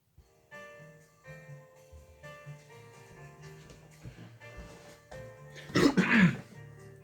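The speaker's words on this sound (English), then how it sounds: "Cough." A single person coughs close by near the end, after a stretch of quiet background music and low murmuring.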